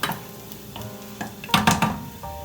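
Aromatics stirred as they fry in oil in a pan, with soft scraping strokes, a brief utensil clink and a gentle sizzle, close and fairly quiet.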